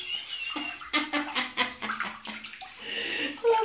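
Eight-week-old Norfolk terrier puppies splash and paddle in shallow warm water, with bursts of sloshing close by mixed with a person's soft voice talking to them.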